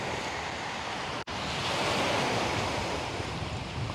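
Sea waves wash onto a beach in Kefalonia, Greece, a steady broadband surf roar that holds nearly constant, broken only by a brief dropout near the start, with no voices.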